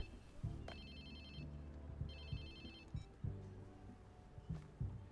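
A phone ringtone in the video game Watch Dogs 2 plays a repeating electronic melody in bursts over low background game music, clear and moderately loud.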